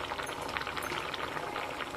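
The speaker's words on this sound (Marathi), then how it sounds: "आता आपली डाळ शिजत आली" Lentil dal bubbling as it cooks in a pot, a steady close simmer of small pops and hissing across the whole stretch, with no voices.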